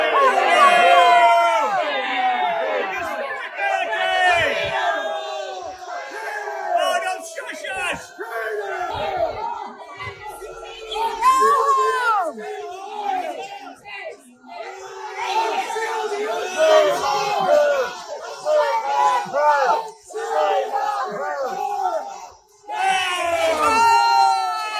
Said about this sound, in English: Let me just show you from another angle with some captions of her getting booed off